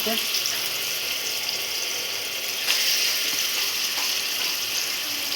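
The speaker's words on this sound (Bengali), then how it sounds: "এপাশে মাছ ভাতা মাছ ভাজা হাতে থাক" Fish pieces frying in oil in a kitchen pan, a continuous bright hiss and sizzle at moderate level with a few small pops and clinks, no talking.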